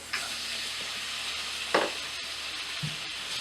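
Shrimp hitting a hot buttered pan for jambalaya set off a steady broadband sizzle, with a sharp burst of crackling as they drop in midway and a few soft knocks around it.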